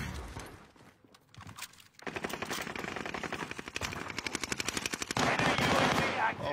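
Video game gunfire during a 2v2 match: a fast automatic burst of rapid shots, close and loud, following quieter scattered sounds and continuing into a dense roar.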